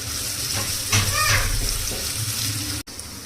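Onions, curry leaves and green chili frying in a pan give off a steady hissing sizzle, moderately loud and close, with a few brief clinks and a voice speaking over it.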